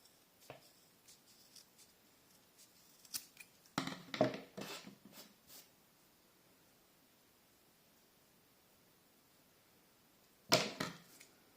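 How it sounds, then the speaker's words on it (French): Scissors snip through macrame cord being trimmed as hair for a handmade macrame doll, with a few quiet cuts early on, a cluster of sharper snips near the middle and one more crisp cut toward the end, close and alone. "Et là eux aussi je vais venir les couper."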